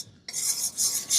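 Gram flour frying in ghee is stirred in a pan, a short, close scraping and sizzling rasp that starts abruptly and swells in quick strokes.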